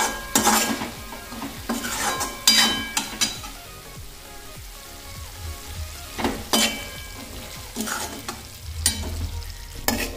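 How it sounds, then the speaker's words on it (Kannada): A spoon scrapes and clatters against a pan of chana bhaji simmering on low gas, in irregular clusters of stirring strokes over a soft, steady sizzle, with no talk. "ಆಮೇಲೆ ಗ್ಯಾಸ್ ಸಿಮ್ ಇಟ್ಟು ಒಂದು 5-10 ನಿಮಿಷ ಅಳಗಾಡ್ಸ್ಕೊತಿರ್ಬೇಕು"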